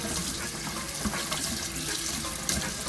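Cassava roots being scrubbed clean of dirt under a running kitchen tap, water splashing steadily into the sink with faint handling sounds throughout.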